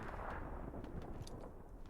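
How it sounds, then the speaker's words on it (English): Artillery and rockets firing in Hell Let Loose during a competitive match at Carentan: a dense, rumbling barrage of overlapping booms and sharp bursts, continuous and fairly distant, with no talk. "Artillery coming down inside of Baddies of the North line."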